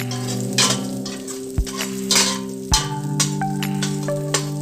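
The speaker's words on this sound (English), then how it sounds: "I've added green chilies to the same pot. I'm going to allow it to fry a little bit." Green chilies sizzle and fry in a pot of hot oil, a steady close crackle broken by a few sharp clinks of a spoon stirring against the pot.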